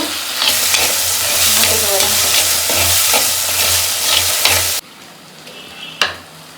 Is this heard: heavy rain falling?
no